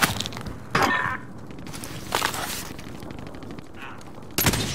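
Gunfire in Call of Duty Modern Warfare Warzone, several sharp loud bursts of shots spaced a second or so apart over a busy game background.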